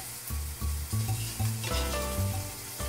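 Grain and greens stirred and sizzling in a hot pan for a za'atar chicken and farro salad, with steady close frying hiss and rhythmic scraping surges as the mix is turned, no talking.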